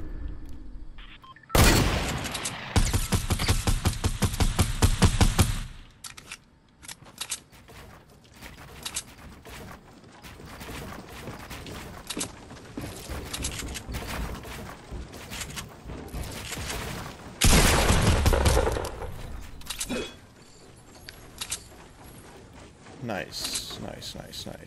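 Video-game gunfire arrives in two heavy, dense bursts of rapid shots separated by a long stretch of quieter gameplay noise, with a person talking through much of it.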